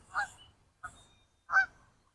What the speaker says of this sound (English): We got a bunch of birds in the water